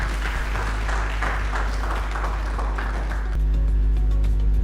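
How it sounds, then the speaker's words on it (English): A season-finale audience applauds steadily with dense clapping, and the sound swells slightly louder near the end under a low room hum. "Can we have a big round of applause for Magai Ivy coming up?"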